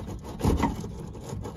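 Scrubbing the window rail of a BMW E30 clean with a wire brush and degreaser, a close, rough rubbing and scraping that swells briefly in the middle of the stroke, with no talk.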